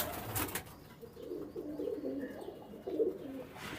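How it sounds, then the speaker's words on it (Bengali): Pigeons imported from Dubai kept in a loft, cooing softly in low, rolling phrases, faint and somewhat distant over a quiet room background, with no talk. "এখানে কিন্তু অনেক কবুতর আছে উড়ানোর জন্য রাখা"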